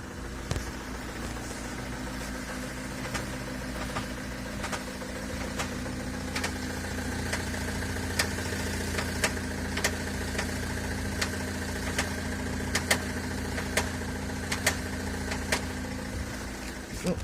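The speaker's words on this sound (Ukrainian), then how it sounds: "Проблема слідуючого характеру це хруст при вивороті руля на місці" A car engine idles steadily while sharp, irregular clicks and crunches repeat over it, up close, from a Renault Megane 2 steering crunching as the wheel is turned on the spot.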